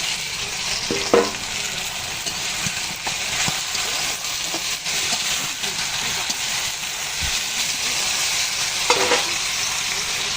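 Fish sizzle and fry in a pan with cumin paste, producing a steady crackling hiss with occasional stirring scrapes and louder pops, close up, while a voice talks intermittently.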